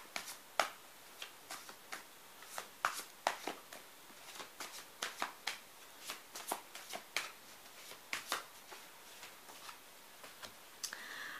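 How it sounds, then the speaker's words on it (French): Tarot oracle cards are shuffled and drawn by hand, giving a string of soft, irregular snapping flicks and light clicks, close but quiet, with no talk. "maintenant, je vais tirer des cartes"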